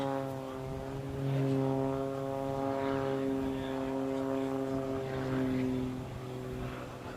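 A small model aeroplane propeller engine drones with a buzzing, whining tone that rises and dips slightly. It is fairly faint and continuous, with no voices.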